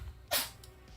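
A single short, sharp sneeze bursts out in a coal mine tunnel, close and fairly loud against a low background hum.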